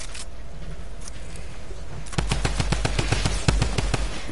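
Rapid automatic gunfire rings out in a shooting video game, starting after a quiet stretch and continuing as a fast, loud, evenly spaced rattle of shots.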